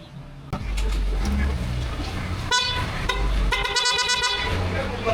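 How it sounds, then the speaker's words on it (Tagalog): A loud aftermarket PIAA horn fitted to a Honda Giorno scooter honks in two bursts, a brief blast near the middle and a longer sustained tone toward the end, over steady low engine rumble and background noise. "Napakalakas ng ng busina."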